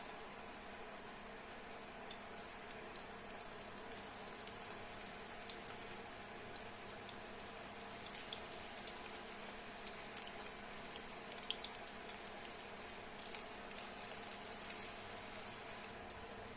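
Cabbage pakoras fry in hot oil, giving a faint, steady sizzling hiss with scattered small crackles and pops throughout, with no talking.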